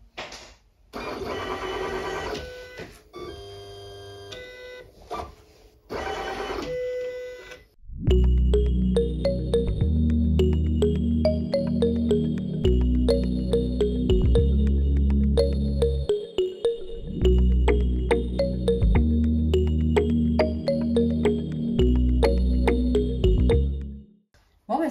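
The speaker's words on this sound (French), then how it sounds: "Bon, ben ça y est, la machine a fini sa découpe." A Silhouette Cameo 5 cutting machine slicing fabric, with a few short mechanical beeps and whirs at first, then a loud, steady motor drone with rhythmic stepping pulses as the carriage shuttles back and forth, close by.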